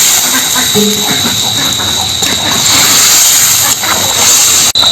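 Water and fried pangas fish go into a hot pan for an elephant foot yam curry, setting off a loud, continuous hissing sizzle that stays strong throughout with only a brief dip near the end.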